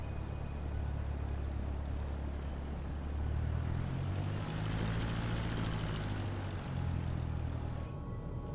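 Steady droning propeller engine of a simulated aircraft landing on a short airstrip in a flight simulator game, a continuous low hum with slight swells in pitch and no talk.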